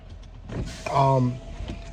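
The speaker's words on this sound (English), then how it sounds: "the school buses are going by" A school bus passes close by on the street, its engine and tire rumble swelling to a peak mid-clip and then fading, with a voice talking over it.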